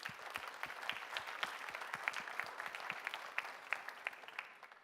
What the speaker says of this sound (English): Applause for all of you in the audience.